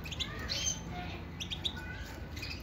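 Pair of mosaic canaries chirping in a cage, quick faint high tweets and short trills scattered across a few seconds with no talking.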